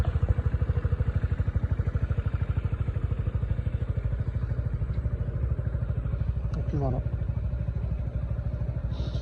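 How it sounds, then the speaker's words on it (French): A Piaggio Beverly 400 scooter engine idles steadily with a low, rapid putter throughout, while someone speaks briefly over it. "Je vais démarrer le scooter pour que vous entendez."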